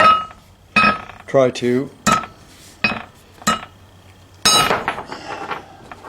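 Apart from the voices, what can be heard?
hammering a metal piece to make it round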